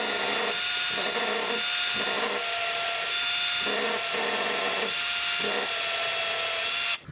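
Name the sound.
electric drill tap-drilling metal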